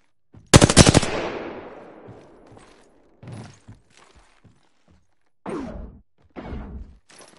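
Gunfire in a PS4 video game: a loud, close burst of rapid automatic shots, then a decaying tail, followed by a few scattered thuds and two later sharp bursts.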